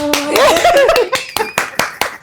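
An audience at a women's panel on building beauty businesses breaks into a short burst of clapping mixed with laughter and a voice, then a few scattered, distinct claps trail off.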